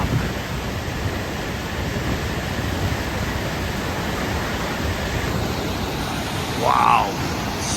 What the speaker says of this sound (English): The water is deflecting off of it.